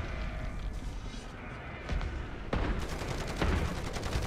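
Sentry guns blaze in a Modern Warfare 3 Zombies match: dense, continuous automatic gunfire with sharp bursts layered over a steady roar of battle noise, loud and close.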